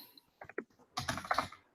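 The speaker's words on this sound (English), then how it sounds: "I was typing our sentence as we went" Quick clicks of keys on a computer keyboard, a few isolated taps followed by a short rapid burst of typing, close and fairly quiet.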